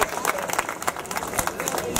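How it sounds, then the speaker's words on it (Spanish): Applause and cheering from an audience at a Winter Wonderland event in Hollywood, dense clapping with bursts and crowd noise throughout, fairly loud and close. "¡Fuerte el aplauso!"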